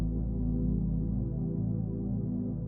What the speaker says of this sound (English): And what I have is the PWM Soft Pad 1.